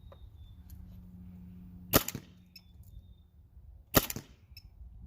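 Two sharp, crisp pops from a paintball marker fired through a chronograph with a First Strike half pint tank, about two seconds apart, each followed by a brief rattle, in a quiet setting.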